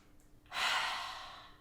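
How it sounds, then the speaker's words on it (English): A single deep yoga breath during a backbend sequence, a soft airy rush that swells quickly and fades slowly over about a second, close and quiet, with no talking. "3 more inhales and exhales."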